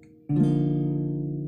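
A single strummed C over B guitar chord rings out clearly after a brief quiet moment, sustaining and slowly fading with no voices.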